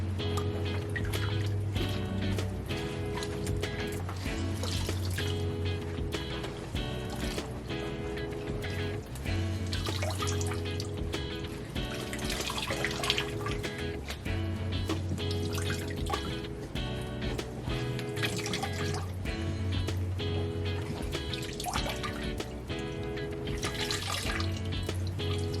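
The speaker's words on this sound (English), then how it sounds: "Now we're going to drain off the shirt" Water draining and dripping from a wet tie-dye shirt, a continuous trickling splash with scattered drips running steadily for the whole stretch, with a faint tonal hum underneath.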